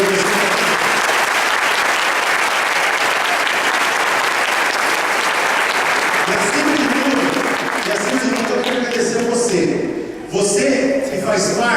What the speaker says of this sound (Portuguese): Eu queria uma salva de palmas para eles